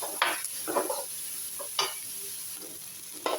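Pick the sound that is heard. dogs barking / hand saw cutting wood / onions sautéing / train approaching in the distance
onions sautéing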